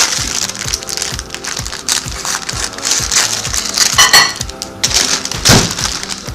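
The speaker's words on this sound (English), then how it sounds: "this is the crookneck squash from my garden, and I'm opening up the bag" A plastic bag holding garden crookneck squash rustles and crinkles up close in a steady, loud run of crackles with sharper crinkles midway, no talk.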